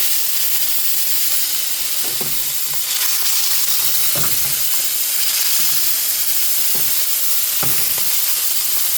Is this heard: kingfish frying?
yes